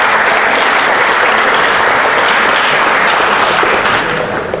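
A church congregation breaks into loud, dense applause, a full wash of clapping from many hands that holds strong and eases slightly at the end.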